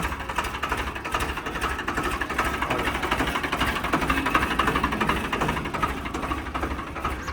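A steady, rumbling engine idles close by, its low, even chugging continuous throughout with a faint rattling vibration on top.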